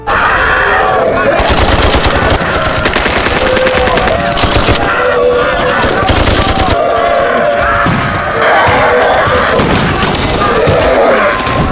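Soldiers fire on a charging zombie horde in a film scene, loud sustained bursts of automatic gunfire with thuds and booms layered over a dense action soundtrack.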